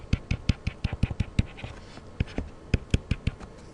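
Pen sketching a line on paper while working a graph problem, heard as a close series of quick, sharp scratchy strokes in uneven bursts with a brief quieter pause midway.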